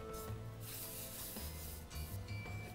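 Hands smooth rolled fondant down over a chocolate Halloween cake, making soft, close rubbing and brushing strokes in a quiet setting.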